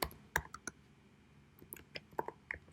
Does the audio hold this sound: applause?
no